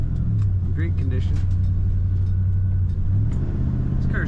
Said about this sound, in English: This car starts and idles and drives like it's very low mile as well.